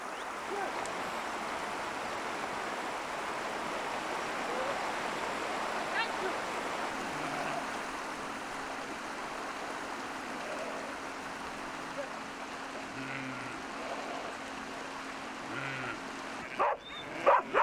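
Continuous rushing of a flowing stream throughout as sheep are driven across it at sunset, with faint distant animal calls and a few knocks near the end.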